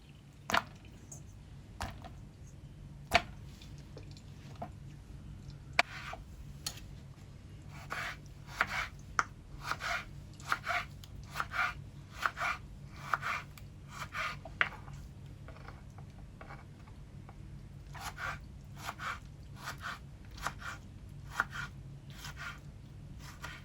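Peeled tomatoes are chopped into small pieces with a knife, giving irregular soft thuds and wet squishing cuts in uneven bursts, some pauses between runs, over a quiet kitchen hum.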